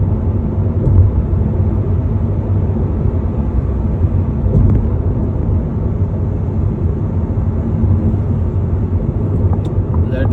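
A car drives along Prince Turki Road in Riyadh, its engine and road rumble forming a steady, loud drone from start to finish with no breaks.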